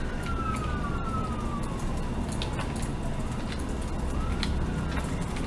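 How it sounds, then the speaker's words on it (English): Police car sirens sweep up and down somewhere outdoors, a moderately distant wailing tone gliding through the whole stretch over a steady background hum, no talk. "those sound like cops."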